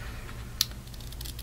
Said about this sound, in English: But I'm going to use my scissors, and I'm going to go on the very, very edge.